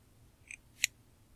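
Plastic top of a small Raspberry Pi computer case being pressed on: two quick, close clicks about a third of a second apart, the second sharper, in a quiet room.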